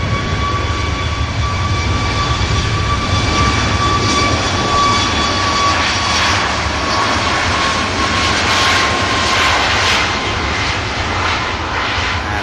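A Turkish carrier's Boeing 737 extended-range jet roars steadily and loudly at close range for the whole stretch, its engine whine holding constant tones over a broad rushing noise, with no voices.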